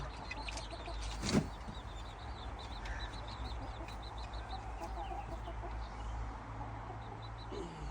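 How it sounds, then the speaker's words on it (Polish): Hens cluck in soft repeated bursts at a distance, over a constant low farmyard rumble, with one louder knock early on. "Kury czekają."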